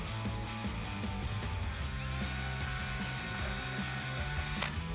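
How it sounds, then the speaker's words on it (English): A drill bores a pilot hole for installing Roush fender flares on a 2015-2017 truck, a steady close whirring grind with a rising pitch partway through, continuous and loud. "go ahead and drill that first hole."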